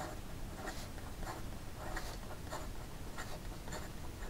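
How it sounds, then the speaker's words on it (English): A broad-nib Benu Scepter fountain pen writes quickly on paper, giving a close, steady rhythm of soft scratchy strokes in short bursts, one after another. "in regard to some fast writing, and there's no issues whatsoever"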